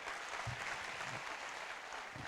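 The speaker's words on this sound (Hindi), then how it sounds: "आपके लिए भी अगर जबरदस्त ताली हो जाए" Audience applause at a talk by a businessman, dense steady clapping from a crowd across the whole moment, fairly full and even.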